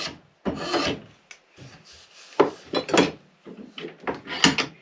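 Wood is scraped and shaved from an axe handle for a five-pound axe in a series of short, rasping strokes, uneven in rhythm and close by, with no talking.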